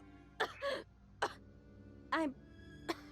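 A woman in the fighting game BlazBlue Continuum Shift Extend coughs in several short, harsh bursts spread across a few seconds, with quiet gaps between them and no speech.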